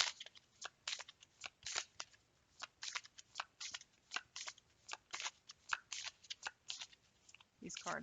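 Tarot cards are shuffled by hand in quick, repeated riffling bursts, each a crisp papery flutter with short pauses between, close and fairly quiet.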